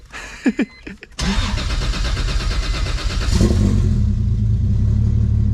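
A 1.5JZ engine swapped into a BMW E46 M3 cranks briefly and fires up after some voices, then settles into a loud, rough idle that builds and rumbles steadily close by.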